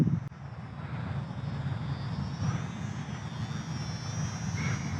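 An FMS PA-18 Super Cub micro RC plane takes off hands-off, its small electric motor and propeller giving a steady, fairly faint whine that holds through the run with no one speaking.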